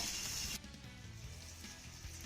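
Separated garlic cloves and chillies roast in a pan with a soft, low, continuous sizzle that begins with a brief louder burst and then settles into a faint, even hiss.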